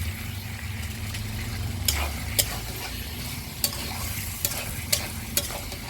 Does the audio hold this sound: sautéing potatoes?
yes